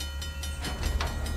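Train rolling along rails in the video game Uncharted, a low rumble with rhythmic clacks and short bursts of noise, fairly close and fairly quiet.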